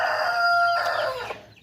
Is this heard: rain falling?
no